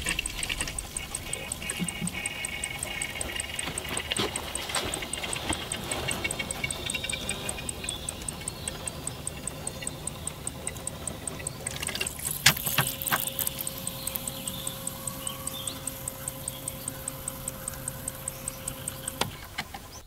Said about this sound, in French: ça pompe et ça remplit le filtre à... le réceptacle du filtre à gasoil